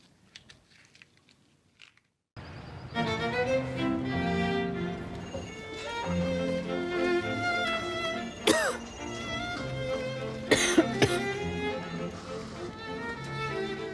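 A patient coughs a few brief times in a GP surgery, the short bursts mixed in with ongoing talk and movement in the room.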